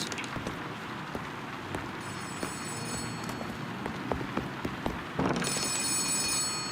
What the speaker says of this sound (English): Yeah, I know phone is ringing.